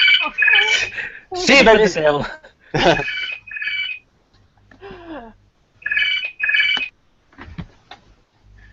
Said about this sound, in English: My phone, just a second.